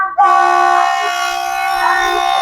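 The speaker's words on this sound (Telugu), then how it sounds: "ట్రైన్ బయలుదేరుతున్నట్టుంది" Train horn blaring at a fog-bound station platform as the train departs, a loud sustained multi-tone blast that starts suddenly and holds steady close by.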